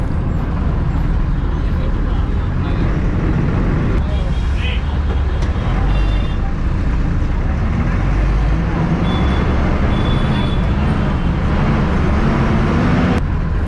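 A city bus on route 11G from Broadway to KK Nagar in Chennai rumbles along in traffic near West Mambalam, with a steady engine drone and road noise, a brief hiss of air brakes partway through, and faint voices in the background.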